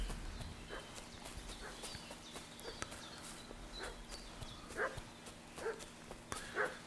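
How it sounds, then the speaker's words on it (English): In Kingdom Come Deliverance II, a dog barks and whimpers in short bursts at mid distance over a low ambient hum, with hoof clops and faint rustles around it. "What's that dog making such a fuss about?"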